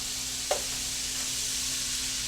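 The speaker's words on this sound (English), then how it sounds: "I'm going to add 3 tablespoons of butter to my pan here." Three tablespoons of butter hit a hot pan on medium-high heat with a brief sharp crackle, then settle into a soft, steady sizzle nearby.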